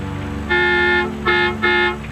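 A car horn honks three times in a police chase on the road: one long blast, then two shorter ones, loud and close over a steady engine rumble.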